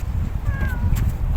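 A cat meows once, a short rising call, over steady low outdoor rumble, likely wind and sea, at a seaside fishing spot in Abu Dhabi.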